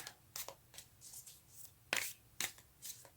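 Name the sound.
shuffling a deck of tarot cards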